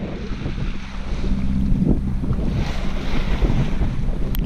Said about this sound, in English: the wind has picked up to 13, 14 knots